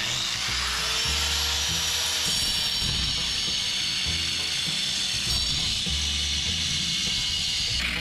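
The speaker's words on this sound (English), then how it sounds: "You can turn your angle grinder the other way." An angle grinder cuts into rock outdoors, producing a loud, continuous gritty hiss and high whine with rough rumbling underneath, close to the listener throughout.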